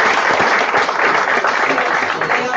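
An audience at a poetry book presentation breaks into steady, dense applause, loud and close, lasting throughout without pause.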